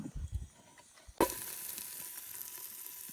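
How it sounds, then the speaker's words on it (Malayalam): Onions hit a hot pan at a campsite, setting off a sudden sizzle partway through that keeps hissing steadily at a low level after some faint handling noises. "നമ്മുടെ ഷെഫ് സവാള ഇടുന്നുണ്ട്."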